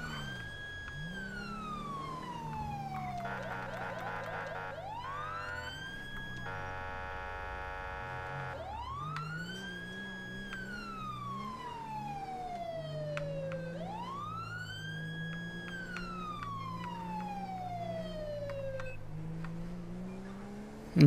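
A police siren in the video game LSPDFR cycles through long wailing sweeps and rapid yelping bursts, moderately loud over a low engine hum, with no talking.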